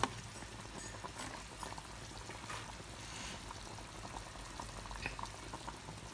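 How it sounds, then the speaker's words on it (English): Stockfish going into a pot of simmering Nigerian egusi soup, a steady close bubbling and gentle liquid churn with a few soft splashes, continuous with no talking. "I'm going to add my stockfish now."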